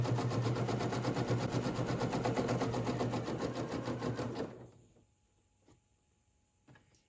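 Sewing machine zigzag stitching elastic onto lace on woven fabric, a steady rapid mechanical whir for several seconds that stops, followed by quiet with a couple of faint clicks.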